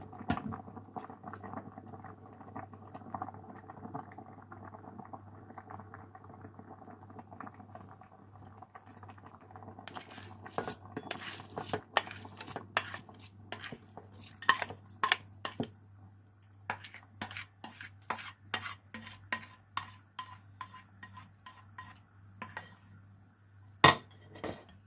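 Chopped vegetables tipped into rice simmering in a rice cooker: scattered clinks of a utensil against the pot and soft pattering over a low steady hum, with busier clattering in the second half.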